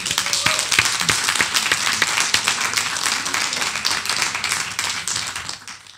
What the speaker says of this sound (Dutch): Een applaus voor jezelf